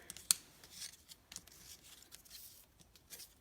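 Scissors snipping through paper while making a May Day basket, a few quiet, close, short crisp cuts separated by soft rustling.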